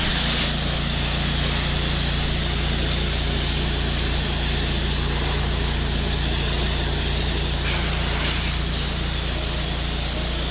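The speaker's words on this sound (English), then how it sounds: "We're using the M5 twist nozzle and the downstream injector to apply the chemical." Chemical spray hisses steadily from an M5 twist nozzle fed by a downstream injector, a constant broadband rush over a low pump or engine hum, loud and unbroken throughout.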